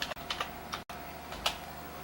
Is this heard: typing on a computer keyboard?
yes